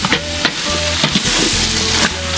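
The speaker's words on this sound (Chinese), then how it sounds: "羊杂下锅" Lamb offal stir-fries in a wok with bean paste and dried chillies, giving a loud, continuous sizzle. Sharp scraping and clanking of a spatula against the wok come in repeated bursts, and no one speaks.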